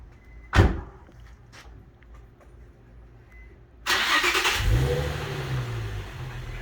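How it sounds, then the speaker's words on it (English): A Nissan 350Z starting up just after an oil change with AMSOIL engine flush: a door thump, quiet pause, then the starter catches and the engine fires into a loud, steady idle close by. "And Terrence, this is his very first time starting up his car with the liquid gold."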